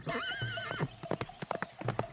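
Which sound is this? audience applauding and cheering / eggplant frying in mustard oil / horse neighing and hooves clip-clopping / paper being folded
horse neighing and hooves clip-clopping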